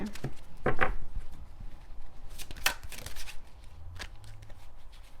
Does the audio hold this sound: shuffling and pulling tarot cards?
yes